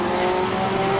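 GT3 race cars in the Assetto Corsa Competizione racing game at Paddock Hill, engines blaring in a steady, loud, high whine with no break, close and alone.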